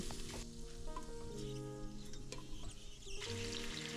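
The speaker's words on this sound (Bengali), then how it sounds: "এবারে যে কটা ড্রাই ফ্রুটস দেবো সেগুলোকে একটু আমি ঘিয়ের মধ্যে আলাদা করে আগে ভেজে নেব" Dry fruits fry in ghee in a kadai with a soft, low sizzle and light stirring, quiet and close, with faint tonal background hum.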